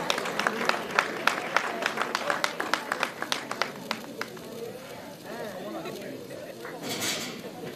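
Scattered, distinct hand claps ring out for an award winner at a journalism awards ceremony, quick and uneven for a few seconds before giving way to a murmuring crowd and voices talking.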